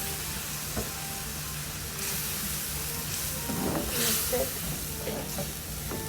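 Onion sizzling in butter in a pan for a garlic butter omelette: a steady frying hiss that swells at moments as the pan is stirred, close up and continuous with no talking.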